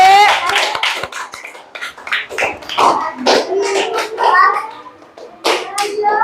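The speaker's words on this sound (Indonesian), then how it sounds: "tepuk tangan untuk kelompok kolaborasi" Fifth-grade pupils in a classroom clap together in short rhythmic bursts, trading them with loud children's voices and chanting close to the microphone.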